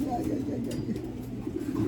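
A racing pigeon coos softly while being handled in a loft, its low calls partly masked by a steady background hum and people talking nearby.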